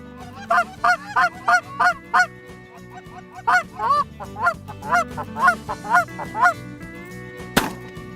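A flock of big geese honks loudly and repeatedly, in bursts of rhythmic calls, over a hunting spread of decoys. A single sharp thump or shot lands near the end.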